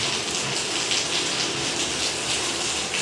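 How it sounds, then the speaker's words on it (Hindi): Heavy rain pouring down on a dark overcast day, a dense, constant hiss of downpour filling the whole stretch, close and loud with no voices. "बारिश बहुत ज़्यादा है"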